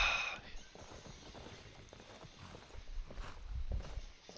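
Horse hooves clip-clopping in Skyrim at night, an irregular run of dull thuds growing louder toward the end as the horse approaches, with a voice speaking over it.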